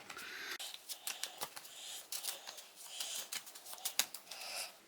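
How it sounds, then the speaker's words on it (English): Rapid papery riffling and flicking as prompt cards are shuffled, a dense run of short crisp rustles and snaps, close and fairly quiet, with no talking. "So we have our prompt cards here. So let's give them a shuffle."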